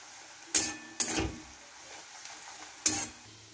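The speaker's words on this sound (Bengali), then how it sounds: "মশলাটাকে ভালো করে কষে নেব।" Spices with chilli and coriander powder fry over a lowered gas flame, a quiet steady sizzle broken by three distinct scraping strokes of a spoon, with no talking.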